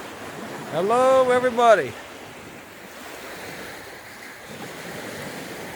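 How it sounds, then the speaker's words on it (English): Ocean surf washes steadily onto a sunny beach in late summer, a soft continuous rush with some wind, as someone briefly speaks a greeting near the start. "There I am on the beach."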